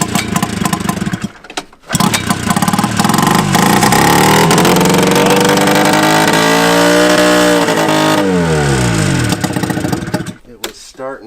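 A vintage snowmobile engine revs loud and close, roaring steadily for several seconds, then bogging and cutting out because fuel is not reaching the carburetor, with brief quiet gaps at the start and end.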